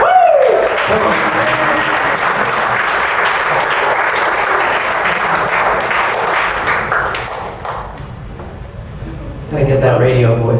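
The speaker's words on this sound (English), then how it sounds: "Do we need to give him a big round of applause?" Wedding guests applaud at a reception during the toasts, with steady loud clapping for about eight seconds that fades before a voice resumes speaking.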